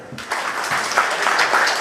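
An audience at a talk on yoga as alternative medicine breaks into applause, a short burst of dense clapping that starts abruptly and holds steady.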